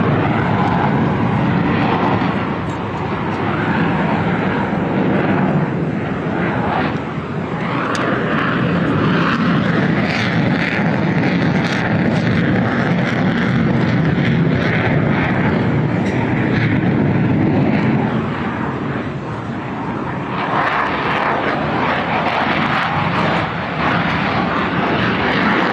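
An F-35C fighter jet makes a high alpha pass at an Independence Day air show in Washington, DC, its loud, continuous roar of jet engine noise sustained throughout, swelling again near the end, with no talk over it.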